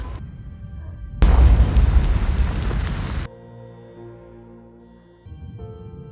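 A grenade blast in a war film erupts as a loud, dense roar that lasts about two seconds, then gives way to a low tonal rumble and quieter ambience.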